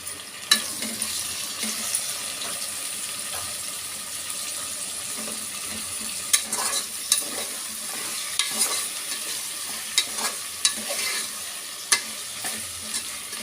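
Tomatoes fry in a hot pan with a steady sizzle, broken by several sharp scrapes and clinks as a spoon stirs them, close and fairly loud throughout.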